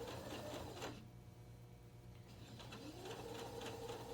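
A sewing machine stitches a seam through several layers of fabric and rope for a dog pull toy, its motor whirring steadily up close, pausing briefly, then running again.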